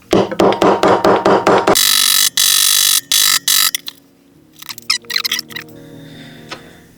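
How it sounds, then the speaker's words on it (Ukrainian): A small hammer taps rapidly on a homemade knife sheath being glued, about eight sharp knocks in quick succession, followed by a hiss and a few scattered lighter taps. "І для того, щоб краще схопилося, перестукуємо молоточком."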